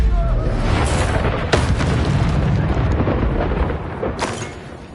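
Expulso spell blasts in Hogwarts Legacy, booming explosions over a rumbling battle din, with sharp bursts near the start, middle and end.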